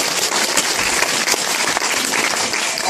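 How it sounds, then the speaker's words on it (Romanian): Dense audience applause at a March 8 celebration event, steady loud clapping from a crowd filling the whole moment without a break. "Aplauze,"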